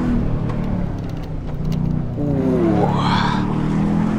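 A Porsche 718 Boxster S in a racing video game skids with tire squeal over a loud, continuous engine drone, the squeal rising and bending in pitch toward the end.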